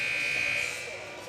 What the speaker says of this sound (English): that is the big loud buzzer